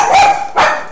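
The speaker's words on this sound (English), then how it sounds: "Hang on a second, my dogs are barking." Dogs barking indoors, two loud bark bursts close by in quick succession, with no talk over them.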